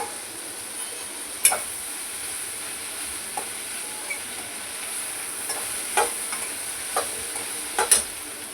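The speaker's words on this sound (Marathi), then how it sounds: "आपण खोबरं टाकून पुन्हा भाजून घेऊया." Cashews and coconut being dry roasted in a pan for a Kolhapuri vegetable curry, with soft scattered scraping clicks of stirring over a faint steady sizzle, fairly quiet and without any voices.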